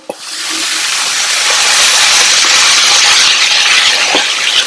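Chopped palak spinach drops into a hot oiled pan on a low flame, a quick clatter followed by a loud, steady sizzle that stays close and constant.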